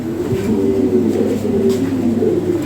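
Pigeons cooing in a pigeon seller's loft, a soft steady low murmur of overlapping coos that continues throughout at close range.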